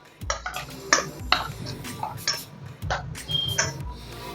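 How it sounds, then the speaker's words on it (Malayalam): A spoon scrapes and clinks against a pan while bitter gourd is stirred with masala, giving irregular sharp metallic taps and scrapes at close range, with no talking. "ഇനി നമുക്ക് കൈപ്പക്ക ഇത് ചേർത്ത് നന്നായി ഇളക്കിയെടുക്കണം"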